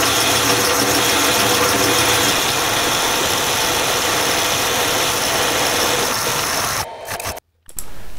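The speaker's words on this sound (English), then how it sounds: "This is how fast I actually machined the cast iron." Cast iron is machined on a lathe, producing a loud, steady grinding and chattering mechanical noise that runs continuously, then cuts out abruptly near the end.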